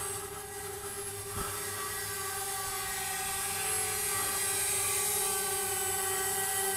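A DJI Spark drone hovers and flies overhead, its propellers producing a steady high-pitched whine that grows slightly louder partway through, with no talk.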